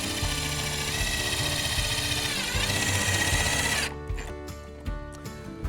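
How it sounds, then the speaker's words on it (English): A power screwdriver drives a screw into the base profile of a Fibo wall panel at the corner, whirring steadily for about four seconds, then stopping, followed by a few faint clicks and knocks. "So now I can go ahead and put my last screw into the base profile into the corner."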